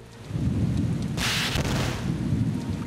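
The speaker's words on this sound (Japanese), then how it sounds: "大雨が降ってきた。" Heavy cartoon rainstorm, a dense steady roar of downpour with a loud thunder crash bursting in midway, close and continuous throughout.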